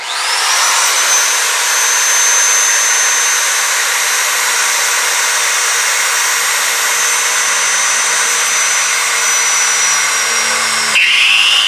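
A power drill bores into a steel drum during an ugly drum smoker build, a loud, steady high-pitched whine holding for about eleven seconds before shifting pitch at the very end.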